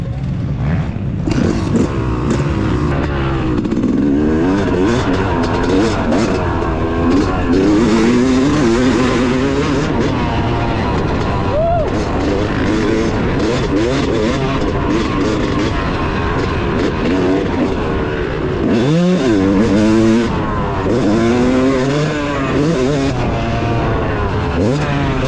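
A Yamaha YZ250 two-stroke dirt bike rips around a Tennessee motocross track at Greenbrier MX, engine revving hard and falling off repeatedly in rising and dropping sweeps, loud and close with wind buffeting.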